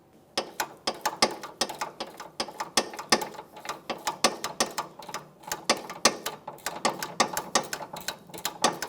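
A ratchet clicks rapidly and up close in many short, evenly repeated bursts while tightening a front sway bar link nut on a 2008-2017 Mitsubishi Lancer.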